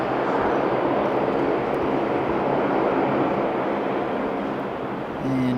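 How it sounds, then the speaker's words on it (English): A Jetstar airliner taking off from Sydney and bound for Melbourne, its engines a loud, steady broadband roar that holds close and constant throughout, easing slightly near the end. "Takeoff. This Jetstar."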